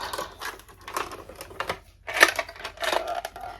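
A pink Mercury Delta 65 sewing machine with a zipper foot gives a series of uneven mechanical clicks and clatters, close by, with short pauses between bursts and no talking.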